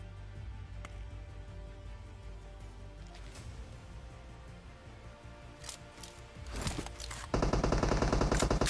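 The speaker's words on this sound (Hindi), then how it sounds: "भाई सामने कोई फायरिंग कर रहा है" Gunfire rings out in a mobile battle royale match. A few faint, scattered shots give way to a loud, close, rapid burst of automatic fire at the end.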